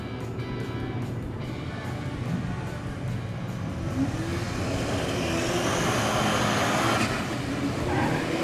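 A DSM car launches down a drag strip on a quarter-mile run, its engine a loud, steady roar that builds through the run, with a faint voice underneath.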